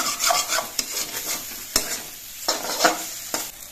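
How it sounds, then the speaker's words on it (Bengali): Spices sauté in oil in a pan for a village-style pumpkin chhakka, a loud close crackling sizzle broken by several sharp stirring scrapes of a spoon. "মশলাগুলো আমি বেশ কিছুক্ষণ কষিয়ে নিয়েছি"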